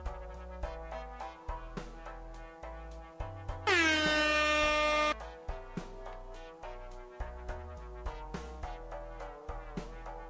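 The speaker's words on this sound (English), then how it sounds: "Air horn." A loud blaring air horn sound effect cuts in for about a second and a half during a Balatro card game run, standing out over a rhythmic electronic music track that continues before and after.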